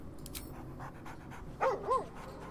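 A dog in the video game Baldur's Gate III pants steadily and softly through most of the moment, with two brief louder whimper-like vocal swells near the end; no talk.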